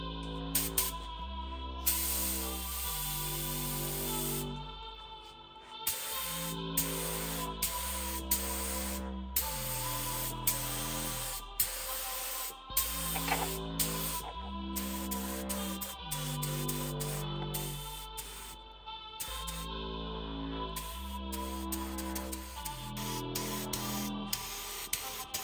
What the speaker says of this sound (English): I'm gonna go ahead and prime those surfaces using the single part black SEM primer.